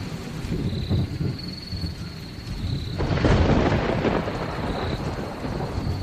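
Heavy cartoon rain pours steadily, and a deep roll of thunder swells about halfway through and then stays rumbling under the downpour.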